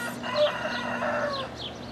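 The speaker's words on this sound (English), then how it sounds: "And the rooster going crazy." A rooster crows nearby, a drawn-out strained call, with hens clucking faintly in the background.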